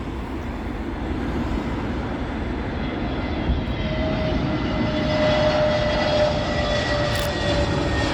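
An airliner, an Airbus A320neo arriving from Oslo, lands on Heathrow runway 27L. Its engines give a steady, broad roar that swells slightly as it passes close by, with a faint whine over the top.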